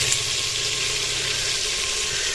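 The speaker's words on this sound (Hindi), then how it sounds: "अब इसमें टमाटर और हरी मिर्ची भी डाल देते हैं।" Tomatoes and green chilies sizzle in a pan over a wood fire, giving a steady, close, loud frying hiss with no pause or talk.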